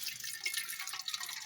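Water poured from a measure into an empty metal can during a food energy lab, a bright trickling splash with faint drips, quiet and continuous for a moment.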